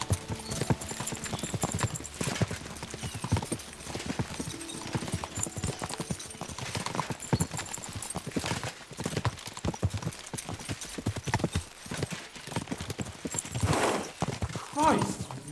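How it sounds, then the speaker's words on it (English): In Kingdom Come: Deliverance II, hooves clatter in a fast, continuous galloping rhythm, with a horse neighing amid the racket and voices talking over it. "We should spur the horses on."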